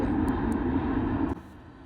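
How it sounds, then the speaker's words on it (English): A fixed-wing airplane passes overhead in Vancouver as a steady loud engine roar that cuts off sharply partway through. A quieter background hum remains, with a few faint clicks. "Let's wait till the plane passes."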